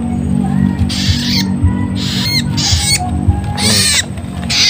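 Several young plain prinias give harsh, squawking calls in short bursts, close and loud, repeating irregularly over a few seconds against a low steady background hum.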